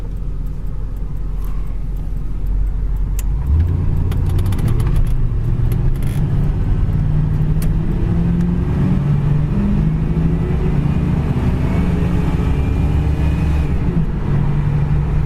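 A 1980 Pontiac Formula accelerates hard with a loud, steady engine roar that climbs in pitch and drops at a gear shift around 4,000 RPM, heard from inside the car with no talking.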